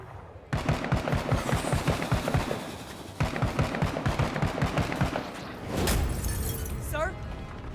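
A shotgun fires rapidly in the video game Menace, a fast, even run of loud repeated blasts that pauses once and resumes, followed by a heavier burst and rumble at the end.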